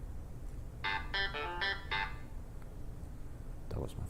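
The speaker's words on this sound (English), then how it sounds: "That was my phone, sorry." A mobile phone's short electronic ringtone plays a quick burst of five bright tones, moderately loud against room hum, followed by a brief voice.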